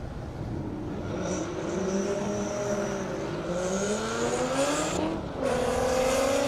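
All-wheel-drive race cars, including a Lamborghini Gallardo, roar down a half-mile airstrip drag course, engines climbing in pitch through the gears with a brief break at a shift before pulling hard again, loud and sustained.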